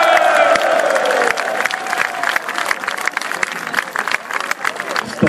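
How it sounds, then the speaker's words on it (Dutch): Outdoor crowd on a town market square applauding and cheering for a Waasland-Beveren football player being presented, clapping steady and fairly close with shouts and cheers mixed in, thinning slightly toward the end. "verdient zeker ook een daverend applaus"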